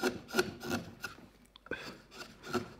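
Hand carving wood with a chisel, making stop cuts and beveling edges: repeated close scraping and shaving strokes in an uneven rhythm with brief pauses, faint but clear and with no talk.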